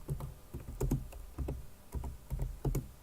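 Close, clicky keystrokes on a computer keyboard, tapped in quick irregular bursts with short pauses, with no voice over them.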